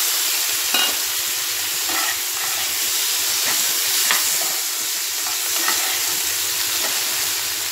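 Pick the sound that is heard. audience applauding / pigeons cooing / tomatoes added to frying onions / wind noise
tomatoes added to frying onions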